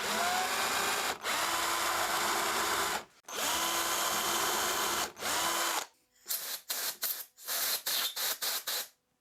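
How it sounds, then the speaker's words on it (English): Power drill boring two holes through a handmade Lexan fishing lure until they join, with long loud whining runs broken by brief stops, then a string of short rapid bursts at the end, close and without talking. "So I'm going to keep drilling these two until they actually meet and combine."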